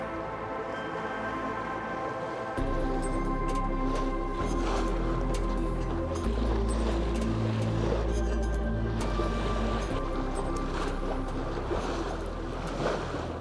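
A sailboat under way rushes through the water, with a steady wash of hull and wave noise mixed with wind and a low rumble running continuously throughout.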